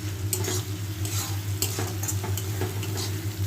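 Food being stirred in a hot pan, a steady sizzle with repeated light scrapes and taps of a spatula against the metal over a low steady hum, close and without voices.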